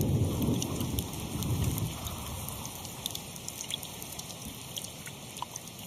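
Rain falls steadily with fine pattering drops, and a low rumble of thunder rolls through the first two seconds before fading under the continuing shower.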